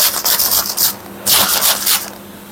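Dry, crisp crunching and rubbing in short bursts as brittle fish pellets are crumbled between fingers, close and fairly loud with brief pauses between.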